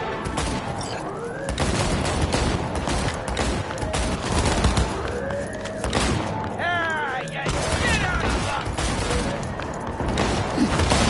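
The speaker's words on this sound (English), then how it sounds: "Shotgun ought to seal the deal." Shotgun blasts and gunfire in the video game Cyberpunk 2077, loud and dense, with heavy booms and mechanical clatter packed over a busy game soundtrack and voices.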